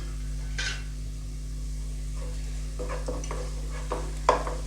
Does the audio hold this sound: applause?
no